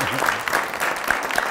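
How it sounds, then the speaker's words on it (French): An audience claps at a French talk on artificial intelligence and work, a brief, steady burst of moderate applause with a few voices faintly mixed in. "on peut l'applaudir parce que c'est pas évident"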